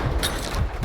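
Gunshots in a shooting video game, a quick burst of several loud, punchy shots within under a second, close and alone.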